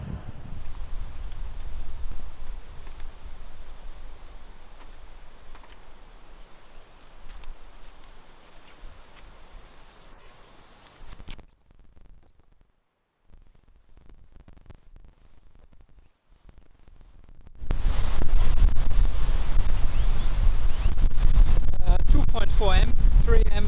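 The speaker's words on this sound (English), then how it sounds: "It is so windy." Strong wind at a Darling River camp batters the microphone with rumbling gusts, drops briefly to near quiet, then returns as a loud, sustained roar.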